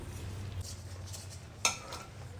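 Coconut Mysore pak batter is stirred in a pan as ghee is poured in, giving a soft scraping stir over a low background hum, with one sharp spoon-on-pan clink.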